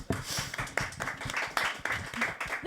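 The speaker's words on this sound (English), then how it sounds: "Please, applause." Audience clapping for a panel speaker at a conference dialogue, fairly faint and uneven, with scattered individual claps rising and falling over a few seconds.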